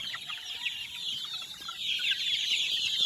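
Many small chicks peep continuously in a dense, high-pitched chorus while being fed, steady and fairly close.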